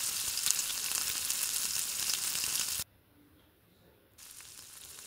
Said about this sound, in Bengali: এরপর প্রথমে পটলটা ভেজে নিচ্ছি।